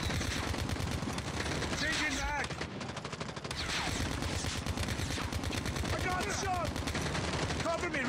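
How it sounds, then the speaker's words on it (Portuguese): Rapid bursts of automatic gunfire crackle in a Call of Duty Mobile hardpoint match, near and continuous with brief pauses, while game sounds and voices mix in. "Ah, o cara atirando em mim também."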